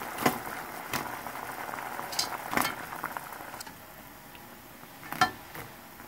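A pot of water bubbles at a steady boil, with occasional sharp metallic clinks and taps of cookware rising above the simmering hiss.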